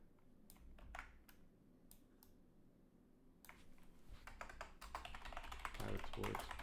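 Someone types code on a computer keyboard. The keystrokes come in quick, close bursts, sparse at first and then denser and faster, with faint background noise.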